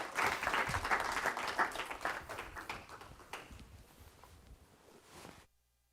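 Audience at a university exercise science symposium applauds after student presentations, a lively round of clapping that gradually thins and fades before cutting off.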